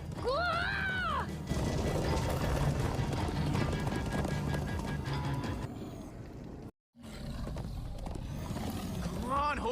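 Horses galloping in the Minecraft Story Mode video game, a dense continuous rumble of hooves under a busy game soundscape with music, one brief drop to silence near the end.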